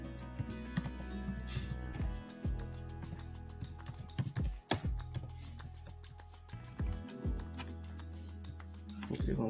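Someone types an email address on a computer keyboard, producing irregular clicky keystrokes at close range over a steady low hum.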